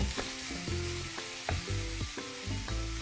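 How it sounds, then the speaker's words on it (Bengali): Onion paste and tomato paste frying in a pan for tel potol, an even sizzle broken by regular scraping stirs about every half second, close and clear with no speech. "পেঁয়াজটাকে ভালো করে ভেজে নিয়ে টমেটোর পেস্ট দিয়ে দেব সেটাকেও একটু ভালো করে কষিয়ে নেব"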